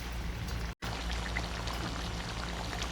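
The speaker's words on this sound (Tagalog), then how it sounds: "lagyan po natin ng ganito lang karaming water" Water poured into a pot of chicken afritada, a steady close hiss of running liquid with one brief dropout near the start.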